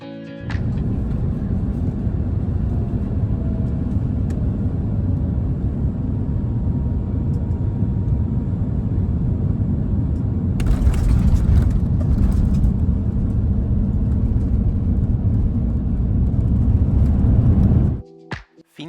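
Inside the cabin of a Finnair Airbus A350 descending into Helsinki, a steady deep engine and airflow rumble fills the space, with added hiss partway through before the noise drops away abruptly near the end.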